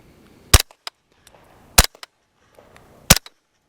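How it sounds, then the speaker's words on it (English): A 9mm pistol fitted with a SilencerCo Spectre 9 suppressor fires three evenly spaced, muted cracks. Small metallic ticks of ejected brass landing follow each shot in otherwise quiet surroundings. "all that noise of what a report of a firearm would be is being very well contained in this suppressor"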